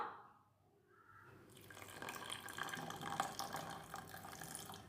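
Water poured into a pot holding jaggery for a sweet green mung bean dish, faint at first, then a steady splashing trickle for the last few seconds, no voices.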